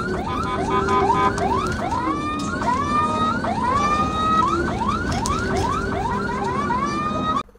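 An ambulance siren wails loud and close as the vehicle drives at night on the Cipularang toll road, repeating rising yelps continuously for several seconds before cutting off abruptly.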